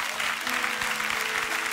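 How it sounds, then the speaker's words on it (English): Church congregation clapping hands together during a sermon, a dense, steady wash of applause that fills the room from start to finish, with no voices standing out. "Come on, clap your hands today."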